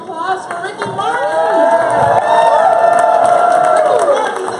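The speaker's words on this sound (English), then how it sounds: "Let's continue to give a round of applause for Ricky Martin." A large crowd at a corporate world tour event cheers and whoops loudly, many voices shouting with some clapping underneath, sustained and close.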